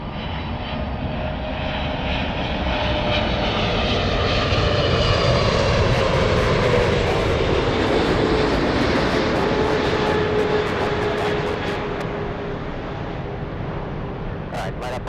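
A jet airliner takes off from runway 24 left at LAX, its loud, steady engine roar holding throughout with a slowly shifting tone, while radio chatter plays faintly underneath.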